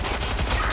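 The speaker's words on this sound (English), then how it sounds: "I heard gunfire!" Dense bursts of gunfire in the video game Watch Dogs: Legion crackle in rapid succession, loud and continuous over a short stretch.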